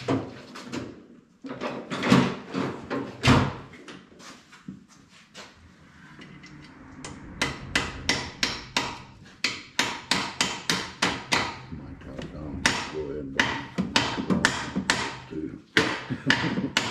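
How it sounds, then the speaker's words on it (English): A hammer strikes a part on the engine of a 2001 Dodge Dakota 3.9-litre V6 during a head gasket job, loud sharp metallic blows in irregular bursts and rapid runs, with brief pauses between, no talking. "hit a smaller one on there with a hammer."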